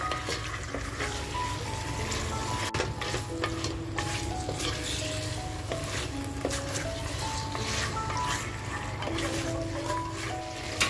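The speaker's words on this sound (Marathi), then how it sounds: "आता आपण मटण ह्याच्यामध्ये परतवून घेऊया" Mutton sautéing in masala over a full flame for dum biryani, a loud continuous sizzle under constant stirring, with scraping, clattering utensil strokes throughout.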